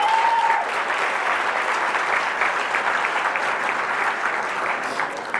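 Sustained applause from a gala audience at a live honors event, a dense steady clatter of many hands that holds at full strength for several seconds without letting up.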